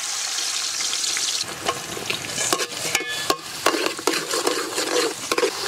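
400 grams of onions sizzle and fry steadily in hot oil, with repeated scraping strokes of a spoon stirring through the pan.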